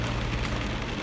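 Heavy rain pouring down in a dense, even hiss, loud and close, over about a second with no voices.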